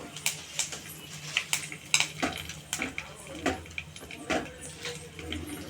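Mustard seeds, curry leaves and dried chillies frying in hot oil for Konkani-style dali toy, a soft sizzle broken by repeated sharp pops and the clinks of stirring in the pan.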